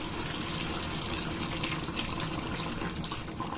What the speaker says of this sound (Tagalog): Lagyan ko na siya ng tubig.